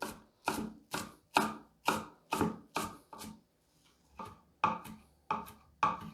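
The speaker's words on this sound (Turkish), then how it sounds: "Maydanozu çok ince olmayacak şekilde doğrayacağım." A knife chops parsley on a cutting board in steady, evenly spaced thuds, about a dozen strokes with a brief pause midway, close and clear.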